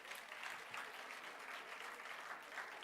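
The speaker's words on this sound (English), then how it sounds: "Let us give a big round of applause." An audience at an academic colloquium session applauds a chartered accountant speaker, a faint, steady wash of clapping heard from a distance with no talk over it.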